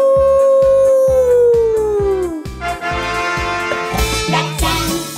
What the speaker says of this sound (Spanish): Veamos qué sonido hace el lobo.